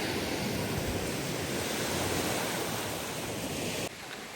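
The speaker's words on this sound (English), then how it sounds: "So it's really windy today" Strong wind and ocean surf on a windy Divi Bay beach in St. Maarten, a steady dense roar of breaking waves and gusts buffeting the microphone, loud and continuous before dropping off abruptly near the end.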